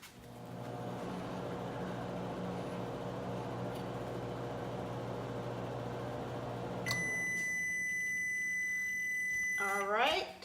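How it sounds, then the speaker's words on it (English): A microwave oven hums steadily while cooking a peanut butter mug cake, with talk over it, then stops and gives a string of loud electronic beeps near the end. "I'm gonna put this mug in a microwave."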